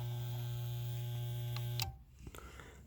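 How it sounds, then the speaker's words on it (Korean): An electric pump on a homemade drum-barrel boiler hums steadily at a low pitch with a faint whine, then stops near the end, leaving a few small clicks in near silence. "전자 펌프를 가동해 보겠습니다."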